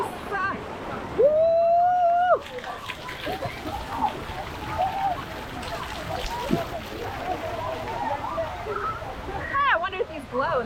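Water rushes and sloshes steadily at a fast-moving current ride in a water park, with splashing close by and people's voices and shouts mixed into the flow.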